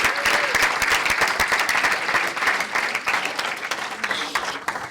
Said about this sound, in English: let's give one more round of applause to all of our candidates